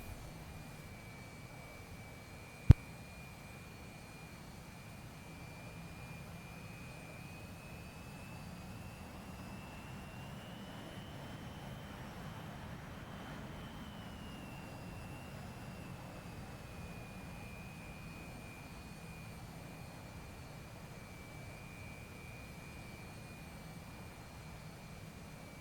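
A J-11 fighter jet in a combat flight game taxis toward the runway, its engines producing a steady, fairly quiet roar with a high whine that rises slightly midway, plus a single sharp click near the start.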